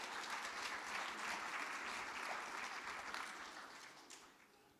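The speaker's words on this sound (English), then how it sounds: "Let's give them a round of applause for coming out and being part of this." At a budget town hall, an audience claps for first-time attendees, a thick continuous patter of applause that holds steady and then gradually dies away.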